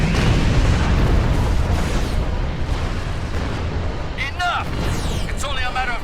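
The Doomsday Weapon in Star Trek Online fires and blows apart in a dense, continuous roar of booming blasts and rumbling explosions, with sharp zapping energy bursts breaking through near the end.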